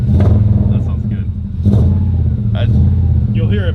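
Subaru boxer engine idling and revving as it warms up, a loud steady low rumble with throttle blips, mixed with people talking over it.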